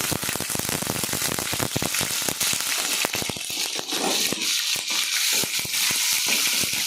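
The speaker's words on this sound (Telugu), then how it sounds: "ఆయిల్ మరుగుతుంది" Oil heating in a pan for a fish curry crackles and sizzles loudly and continuously, with dense sharp pops throughout and no talking.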